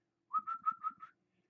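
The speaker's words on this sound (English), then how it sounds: "Gotta whistle them in." A person whistles to call fish while playing the Fishing Planet video game, five quick, close, rising-and-falling whistle notes in a short burst, then silence.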